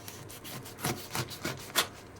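Knife slicing crosswise through a pineapple, giving four or five short, rough scraping strokes in a steady rhythm, close and fairly quiet with no voices.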